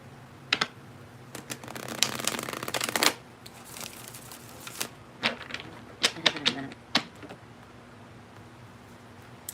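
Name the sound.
tarot cards being handled and shuffled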